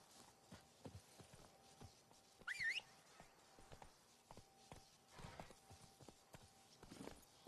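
Horse hooves clip-clop at a steady walking pace in The Witcher 3: Blood and Wine, a rhythmic series of fairly quiet hoof strikes over faint ambient game sound, with a brief whistle-like tone partway through.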